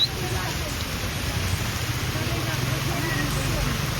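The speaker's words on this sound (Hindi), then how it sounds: "बहुत तेज हो गई भाई बारिश, बहुत तेज" Heavy monsoon rain pours down at an outdoor camp complex, a dense, steady, close hiss that holds at an even loudness throughout with no breaks.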